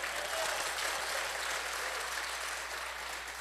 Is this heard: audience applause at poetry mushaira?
yes